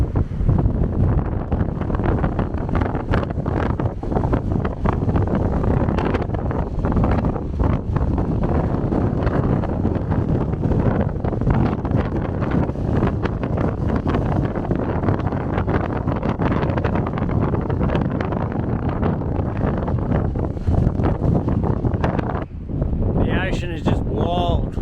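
Strong gusting wind buffets the microphone on a rugged Kangaroo Island coastline where waves crash against rocks, a loud continuous roar with heavy low rumble throughout and no clear pauses.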